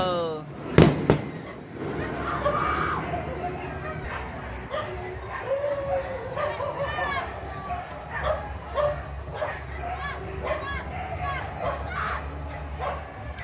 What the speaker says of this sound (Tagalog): Yan, may fireworks.